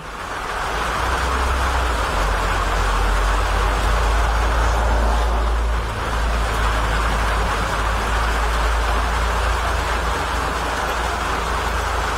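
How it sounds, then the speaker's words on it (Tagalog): Heavy tropical rain pouring steadily, a loud dense wash of hiss with a low rumble underneath, unbroken for the whole stretch around someone wiring a Ficus virens bonsai branch. "Masyadong maulan mga paps, lakas ng ulan."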